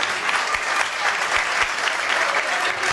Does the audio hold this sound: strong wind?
no